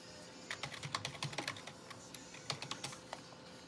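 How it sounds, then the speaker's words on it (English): Fast, uneven typing on a computer keyboard, the clicks bunched in quick bursts with short pauses, close and fairly quiet, with no one talking. "This is fake typing. You want to watch me type?"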